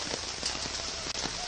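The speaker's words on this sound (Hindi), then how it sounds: "अच्छा, बारिश हो रही है जोरदार।" Heavy rain pours steadily, a dense, loud wash of drops drumming on surfaces that stays constant throughout with no talk over it.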